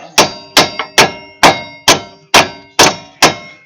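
Hammer striking old wheel hub bolts on a 2003 Chevrolet Silverado front hub assembly, eight sharp metallic clangs at a steady rhythm, close and loud, each ringing briefly before the next blow.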